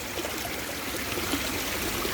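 Feet stirring cold Ganges river water at Rishikesh, with a steady close wash of flowing and trickling water and no distinct splashes, alone without talk.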